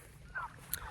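Turkeys on a farm pasture, calling in brief bird cries: a short honking note near the middle and a sharper squawk just after, fairly faint over a low steady background rumble.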